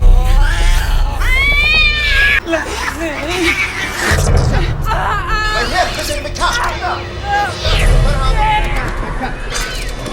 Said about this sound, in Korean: 고양이들이 그녀에게 공격성을 보이기 시작하고